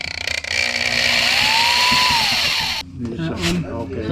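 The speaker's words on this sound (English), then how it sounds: "drill 3 holes on each side in this trim piece" A power drill whines loudly drilling holes in an RV trim piece while mounting steps, its pitch rising and falling, then cuts off abruptly, leaving quieter clattering and a voice speaking nearby.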